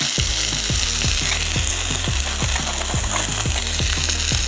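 A birria beef taco fries in a hot pan with a steady, close crackling sizzle, with a regular low thumping rhythm running beneath it throughout and no voices.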